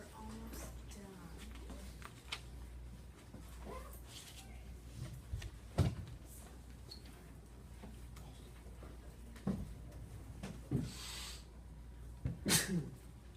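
A single sneeze from someone in a quiet classroom stands out sharply amid faint ticking, shuffling and low background noise, with a couple of other brief sounds nearby.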